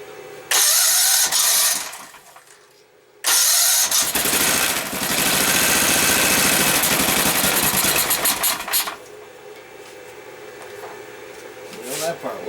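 A go-kart engine, now fitted with a cleaned PZ30 carburetor, cranks and catches, then roars loudly for several seconds before dropping back to a rough, uneven idle.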